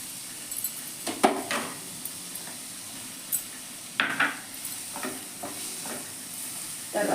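Capsicum stir-fries in oil with a low, even sizzle, while a few sharp utensil clinks and scrapes against the pan come and go, and no one speaks.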